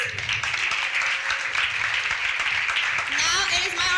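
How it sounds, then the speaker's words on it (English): Audience applause at a commemoration event for Roberto and Vera Clemente, a steady wash of clapping with voices and cheers mixed in, rising toward the end with whoops. "Can we give him a round of applause, please?"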